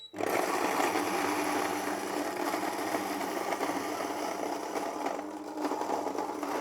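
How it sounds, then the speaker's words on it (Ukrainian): A Fellow Ode 2 electric coffee grinder grinds 15 grams of Guatemalan coffee, a steady close whirring motor drone with gritty crunching that runs unbroken after an abrupt start. "І будемо змелювати 15 грамів кави."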